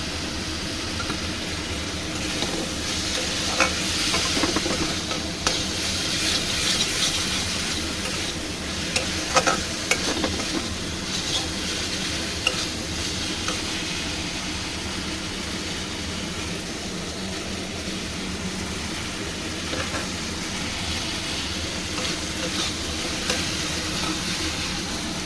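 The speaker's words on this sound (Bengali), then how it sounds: "ভালো করে একটু কষিয়ে নেব।" Chilli paneer stir-fries in a pan with a steady loud sizzle and hiss, spatula scrapes and stirs breaking through now and then, close up and continuous with no talking.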